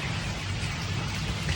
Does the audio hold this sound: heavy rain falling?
yes